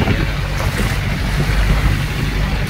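A steady loud rush of water and wind around a moving boat off the back side of Boracay, with low surging thumps as big waves roll against the hull.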